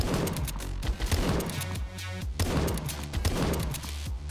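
Dense, rapid gunfire from a drone in the Roblox game Sentinel crackles loud and continuous, with a brief lull midway before the burst resumes.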